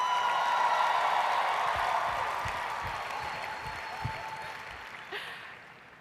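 Audience applause at a 2014 Atlantic City training event, dense steady clapping from a large crowd that fills the room and slowly fades toward the end.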